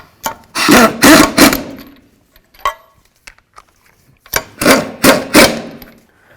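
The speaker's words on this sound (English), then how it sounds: "Let's go ahead and bottom out all the lug nuts." Lug nuts on a Toyota Tacoma front wheel are run down with a power tool in two clusters of short loud whirring bursts, with faint clicks of handling in between.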